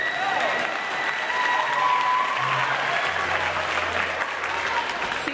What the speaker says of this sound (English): Yeah, we'll give her applause.